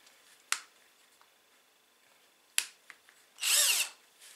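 A cordless battery drill, recorded close and otherwise quiet, gives two short clicks of the trigger and then spins briefly in one loud whirring burst about half a second long.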